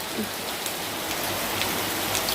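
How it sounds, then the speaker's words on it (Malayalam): Heavy rain pours down outside in a dense, constant roar of drops hitting surfaces, loud and unbroken with no voices. "പുറത്ത് മഴ തകർക്കുവാണ്"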